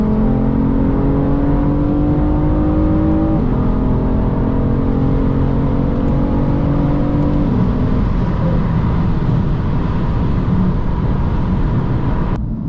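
A high-mileage BMW M3 engine revs up through rising gears while driving, whining pitch climbing and dropping between shifts, steady and close throughout.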